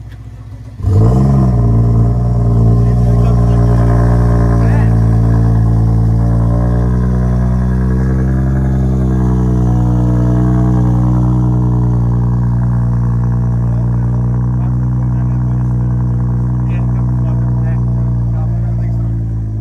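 A turbocharged V8 car engine fires up with a sharp burst, then settles into a deep, loud, rumbling idle close by, its pitch wavering slightly as it holds.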